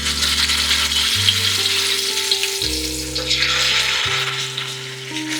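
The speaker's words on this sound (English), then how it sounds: "Frying your chicken first locks in flavor profile." Steady, loud sizzling of chicken frying in a hot pan, continuous crackle throughout with no talking, while a faint tonal music plays underneath.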